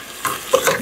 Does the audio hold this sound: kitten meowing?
no